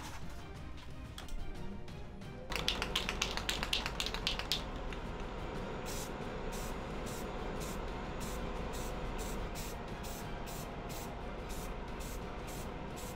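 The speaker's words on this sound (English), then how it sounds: "All the parts will be sprayed in matte black" Parts are spray painted matte black from an aerosol can: a steady hissing spray runs throughout, with a burst of rapid can-rattle clicks early on and repeated short spurts near the end.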